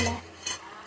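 Spoon stirring chicken curry with masala in a pot, short faint scraping strokes with a soft sizzle underneath.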